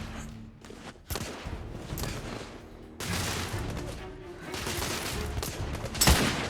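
Bursts of rapid gunfire crackle in The Order: 1886, repeated volleys of sharp shots in clusters with short pauses, plus a heavier impact near the end.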